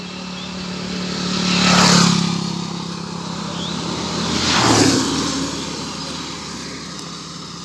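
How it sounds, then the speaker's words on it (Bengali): Vehicles pass on the City Bypass road in Khulna, two loud swelling whooshes of passing cars or motorbikes rising and fading over a steady outdoor traffic rumble. "আর এটা হচ্ছে রাস্তা, এই যে সিটি বাইপাসের রাস্তা"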